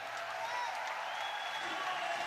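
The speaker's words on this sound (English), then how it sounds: "The crowd's getting behind" A crowd at a bouldering World Cup semi-final in Munich cheers and applauds a climber, a steady wash of clapping and shouting that holds throughout.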